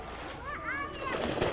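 Water splashes in a swimming pool, with children's voices and lively movement in the water filling the short stretch.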